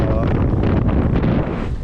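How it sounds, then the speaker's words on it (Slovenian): Strong wind of around 25 knots buffets a sailboat under reefed sails near the Greek island of Symi, a loud, gusty roar of wind on the microphone, continuous and close, with a voice partly buried under it. "Jadra s skrajšenimi jadri, je spet tam okoli 25 vozlov vetra."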